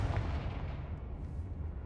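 Blasting Confringo fire spell in Hogwarts Legacy, a dense low rumbling boom with crackling, explosive texture that sustains and slowly fades, heard alone without talk.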